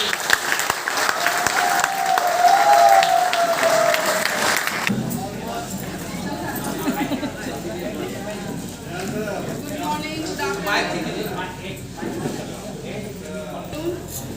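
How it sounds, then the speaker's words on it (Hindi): Applause from an audience at a motivational event, with a whistling tone in the first seconds and then loud, steady clapping mixed with crowd noise and murmuring. "जोरदार तालियां दीजिए।"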